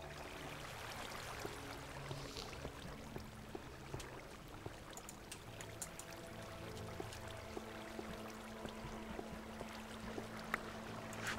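Water flowing in Minecraft: a faint, continuous trickling and burbling wash with small splashy ticks scattered through, steady and quiet, with no talk.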